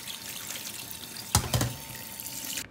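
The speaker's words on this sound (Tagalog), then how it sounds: "Una ko nang ginawa ay hinugasan ko muna itong karne." Tap water runs steadily into a sink while raw meat is rinsed under it, with two short splashy thuds midway as the meat is handled, close and fairly quiet.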